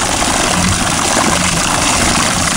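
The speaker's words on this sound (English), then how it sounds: "Makes the motor spin." Small motor on a hacked-up wood-wheel car, run with a foot-pedal throttle, gives a loud, steady, close buzzing whir that holds without a break and with no clear rise or fall in pitch.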